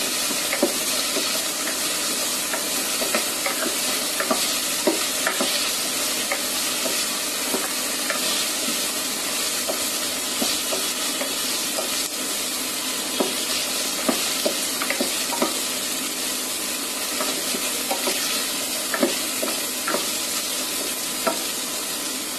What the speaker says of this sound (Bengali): এখন এটা আমি ভাজা ভাজা করে ফেলব।